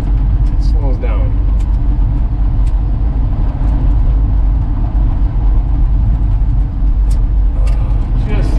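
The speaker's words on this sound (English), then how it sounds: "Kind of chugging. I give it gas, it slows down." A 1966 Ford F100 truck engine runs rough and chugging as it is given gas, a loud close low rumble with uneven pulses, while someone talks over it.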